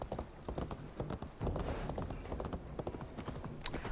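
Horse hooves clip-clopping in a steady galloping rhythm while riding in Assassin's Creed Valhalla, close and continuous over a game soundscape, with a brief high chime near the end.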